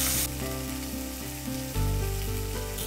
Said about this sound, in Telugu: సో చికెన్ పీసెస్ని ఆయిల్లో వేసి ఇలా బ్రౌన్ కలర్ వచ్చేంత వరకు